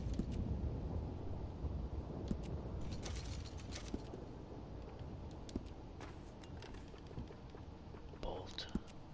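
A gun is worked and handled in Red Dead Redemption 2 Online, giving faint metallic clicks, ratcheting and creaking at an uneven pace over low background noise, with a soft voice present.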